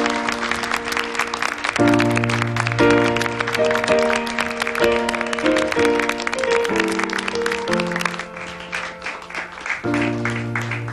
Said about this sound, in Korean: 박수로 축복해 주시기 바랍니다.